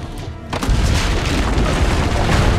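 Cannon fire from Assassin's Creed Brotherhood booms loudly after a short quiet lead-in, a heavy blast whose rumble rolls on and sustains through the rest of the moment.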